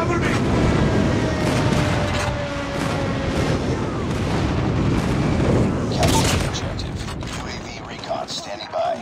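Heavy explosions from a friendly airstrike rumble continuously in a shooter video game's hardpoint match. Booming blasts overlap with gunfire and loud impacts, while in-game voices call out over the din.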